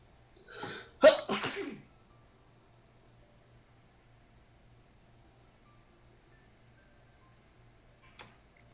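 One close, sharp human sneeze with a quick intake bursts out near the start, followed by near silence and a faint click toward the end.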